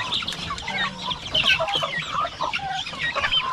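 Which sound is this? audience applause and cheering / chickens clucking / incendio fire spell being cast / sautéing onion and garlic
chickens clucking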